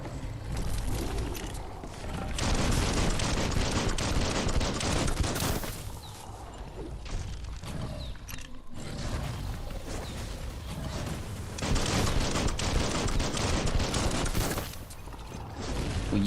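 Rapid gunfire from weapons in the open-world game Biomutant, dense bursts loud and close that run almost the whole time, with short lulls between volleys.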